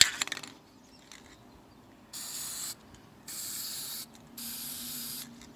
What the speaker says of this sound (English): just put in the spray paint like that into the water